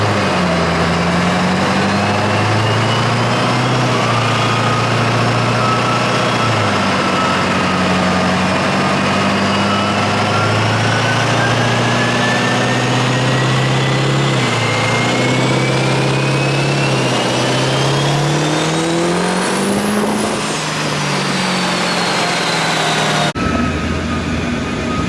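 A heavy Duramax diesel truck engine drones loudly and continuously on a dyno, its pitch slowly climbing as it revs higher, then dropping off abruptly near the end.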